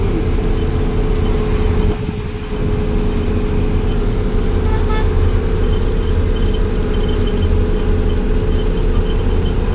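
Highway traffic with a tanker truck, a continuous loud rumble of engines and tyres with a brief dip in the middle, heard from inside a moving vehicle.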